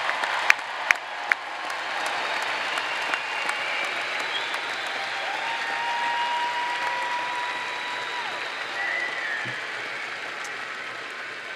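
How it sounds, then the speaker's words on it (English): Sustained audience applause at a university summer commencement honouring graduates, a broad steady wash of many hands clapping in a large hall, fairly distant with a few sharper claps near the start. "how about another round of applause for all of our graduates this morning?"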